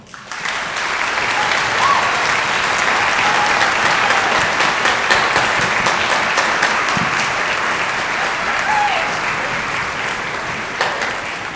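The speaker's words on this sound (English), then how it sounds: "And let's give these students a round of applause." Loud, sustained applause from a school orchestra concert audience fills the hall evenly, dense clapping holding steady for over ten seconds before easing slightly at the end.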